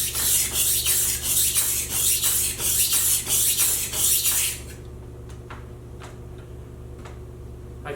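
A knife blade is drawn repeatedly across a sharpening stone to raise a burr, giving loud, regular rasping strokes about twice a second that stop abruptly, followed by a few faint isolated ticks against a quiet hum.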